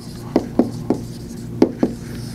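Quick handwriting strokes, five sharp scratchy taps in an uneven rhythm, close by and fairly quiet over a low room hum.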